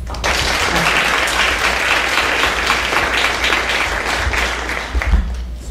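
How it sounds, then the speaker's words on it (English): Audience applause closing a campus conversation event during a university integrity week, a sustained, fairly loud roar of clapping that continues steadily for several seconds with a few heavier thumps near the end. "one more round of applause, please"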